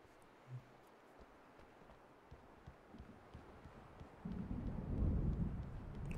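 Faint, quiet rumbling of distant thunder with scattered ticks, swelling into a louder low roll near the end, as in the video game Alan Wake Remastered storm.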